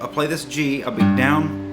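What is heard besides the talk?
No distinct noise like a dog, phone or traffic.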